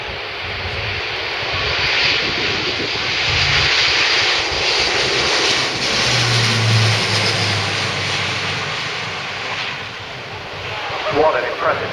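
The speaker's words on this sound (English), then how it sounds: "What an impressive takeoff from an aircraft that size." A large Airbus military transport aircraft takes off at an air show. Its engines give a loud, sustained broadband roar that swells and fades over the whole stretch, with some distant talk from the crowd under it.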